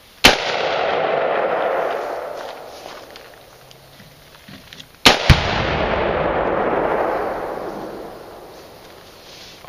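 A Tannerite target hit by a Bushmaster rifle round outdoors, two sharp loud cracks about five seconds apart, each followed by a long rolling boom that slowly fades.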